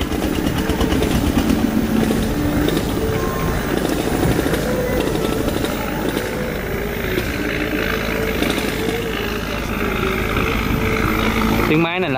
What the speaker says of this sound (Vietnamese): Tiếng máy này là tiếng máy Cumin nha